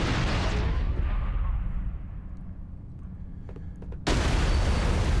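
Explosions in Halo: The Master Chief Collection during combat: a loud, broad blast rumbles and slowly fades over several seconds, then another sharp burst cuts in abruptly.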